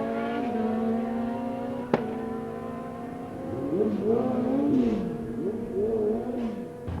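Mick Noble's 1168 streetbike makes a drag run at Santa Pod, a distant, fairly faint engine whine that rises and wavers through gear changes, with a sharp click near the start.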